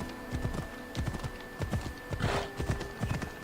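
Horse hooves clip-clop in a steady, rhythmic trot as a slow horse moves through a town in the video game Assassin's Creed Odyssey, the close, repeated hoof falls sounding over a low game ambience.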